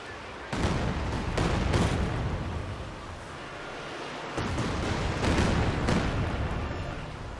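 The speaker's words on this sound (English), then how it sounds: "There's another creeping barrage." Repeated artillery shell bursts from a creeping barrage in the strategy video game Company of Heroes 2 rumble through the whole stretch, several heavy booming impacts in loose succession over a dense battle din, with no clear talk.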